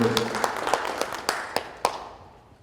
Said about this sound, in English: And I get a round of applause.